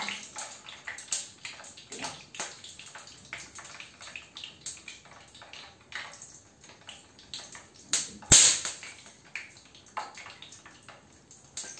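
Water left in a frying pan while karela cooks sputters and crackles in irregular, fairly quiet bursts, with one sharper pop near the end.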